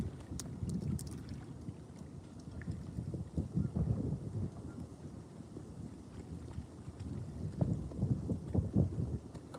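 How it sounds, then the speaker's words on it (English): Wind gusts roar across an outdoor microphone beside a harbour in Hamilton, Ontario, a low rumbling buffet that swells and fades throughout, loud and close with no talking. "That wind's really picking up."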